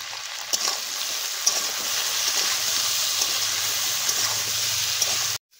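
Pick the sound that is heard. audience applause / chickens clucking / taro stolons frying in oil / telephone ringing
taro stolons frying in oil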